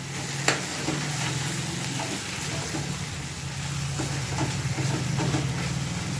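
Mango aamras being stirred in a pan, a steady low sizzling bubble with soft scraping of the spoon throughout and a faint click near the start, no voices heard.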